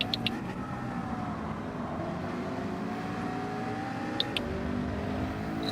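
Race car engine in Gran Turismo 7 at Interlagos, a steady, continuous drone with faint pitch sweeps as it runs, moderately loud and alone with no talk.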